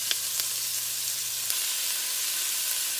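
Ground beef sizzles steadily in a hot pan while being broken into chunks for vegetable soup, a dense continuous hiss with a few faint scraping taps and no talking.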